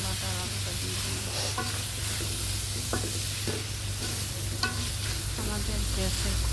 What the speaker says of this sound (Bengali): একটু মশলাতে আমি কলাটা আর আলুটা দিয়ে দিই।